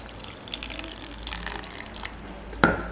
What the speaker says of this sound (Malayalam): അതിലേക്കൊരൽപ്പം വെള്ളം ചേർത്ത് ഒന്ന് അരച്ചെടുക്കാം